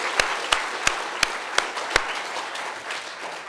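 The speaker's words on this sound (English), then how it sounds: "I'd like to do one more round of applause for Mualim Saeed." A closing round of applause from the audience at a Somali community storytelling event in Minnesota, with several sharp individual claps standing out over dense, steady clapping that carries on across the clip.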